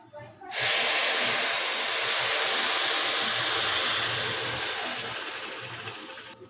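Mango juice poured into a hot pan of fried spices and caramelized sugar for a sweet-sour chutney erupts into a loud, sudden sizzling hiss that holds steady and slowly fades, with a voice faintly underneath.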